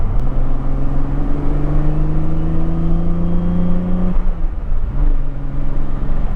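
A 2JZ-swapped Nissan 240SX on the road, its engine droning loud and close under load with a rising pitch, then a gear change near the end before it pulls again.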